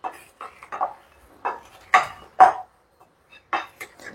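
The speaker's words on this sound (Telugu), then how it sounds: "ఇప్పుడు అన్నీ బాగా మిక్స్ చేసుకుందాము." Utensil scraping and clinking in a bowl while a chickpea and sprouts salad with squeezed lemon is mixed, in irregular light taps and scrapes with short pauses between them.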